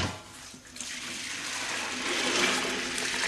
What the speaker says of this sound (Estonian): Üks ämbri täis läheb pesupalisse.